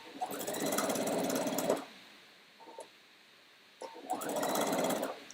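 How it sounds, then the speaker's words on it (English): A sewing machine stitches fabric edges together in two steady, close, buzzing runs of nearly two seconds each, separated by a quiet pause with a faint brief click. "Sew these edges together."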